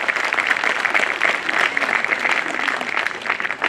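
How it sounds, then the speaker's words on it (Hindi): Sustained applause from a seated audience at a Bar Council of Delhi enrolment meeting, steady dense clapping that fills the whole moment without a break. "एक बार जोरदार तालियां इस कमेटी के लिए।"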